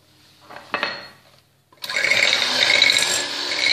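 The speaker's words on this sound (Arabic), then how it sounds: "وأخفق حتى يصبح لونه أصفر فاتح" Egg yolks and sugar for tiramisu cream are beaten with a whisk. A few light clinks come first, then after a short pause a loud, steady whirring whisk runs continuously.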